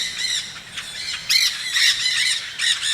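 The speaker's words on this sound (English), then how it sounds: "Here come a platoon of green parakeets, by far the most jarring with their shrieking." A flock of green parakeets shrieking overhead, harsh high squawks repeating in overlapping bursts throughout, loud and fairly close with no talking.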